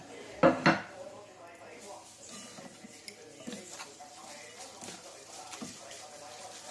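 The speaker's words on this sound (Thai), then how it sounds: "คลุกเขาส่วนผสมให้เข้ากันนะคะ รู้สึกอ่างผสมจะเล็กไป" Minced pork and glass noodle larb, with sliced shallots and chillies, is tossed in a small mixing bowl: a loud clatter of utensil against the bowl opens, followed by quieter, irregular tapping and soft mixing sounds.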